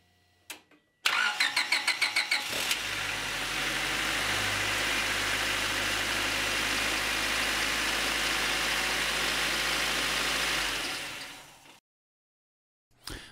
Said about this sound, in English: Start the engine so the oil pump can fill the new oil filter with oil